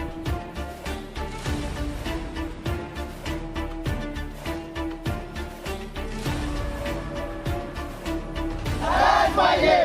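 A large crowd gathered at a protest outside a panchayat samiti office over a primary health centre, with a loud, dense mass of voices and rhythmic chanting and clapping throughout, swelling louder near the end.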